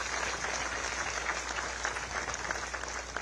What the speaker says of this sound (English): I ask all of us to applaud him